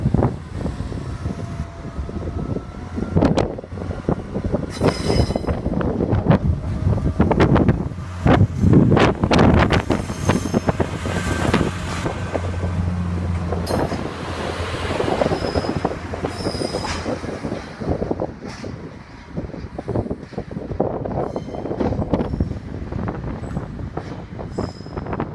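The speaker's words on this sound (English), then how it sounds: "Now about to arrive on platform 2C at Sheffield." A Northern Rail train pulls into platform 2C at Sheffield station, with loud rumbling wheels, rattling carriages and squealing brakes continuing steadily throughout, overlaid by wind buffeting the microphone and no voices.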